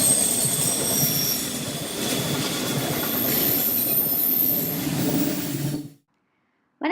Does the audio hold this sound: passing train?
yes